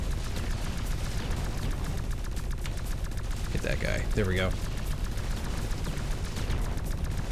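Dense, continuous explosions and gunfire from the video game X-Morph: Defense on Nintendo Switch rumble loudly throughout, while someone talks briefly over the din.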